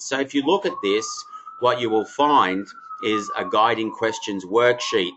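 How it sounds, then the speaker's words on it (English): A siren wails outside on a New York street, a steady rising and falling tone running beneath someone speaking close to the microphone. "That siren's just making me laugh."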